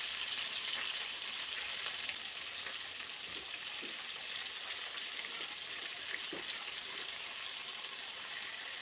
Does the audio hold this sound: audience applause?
no